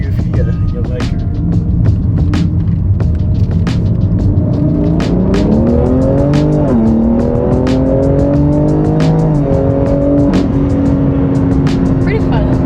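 A car driving on a freeway with a steady engine and road roar; clear rising and falling engine notes mark gear changes. Voices talk over it intermittently.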